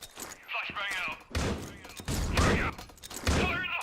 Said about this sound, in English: Nades heavy utilized now, and it hits its mark.